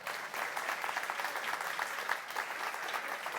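Audience at a closing plenary session applauds Naomi Martin, a steady burst of clapping from a seated crowd that carries on evenly for a few seconds.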